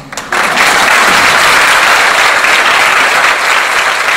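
After a brief quieter moment, a burst of dense audience applause rises and continues steadily at a school choir concert, loud and unbroken.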